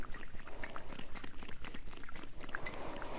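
Liquid sloshing and swirling inside a hollow emu eggshell as it is shaken and mixed, a steady run of small wet splashes and gurgles, close and moderately loud with no talking.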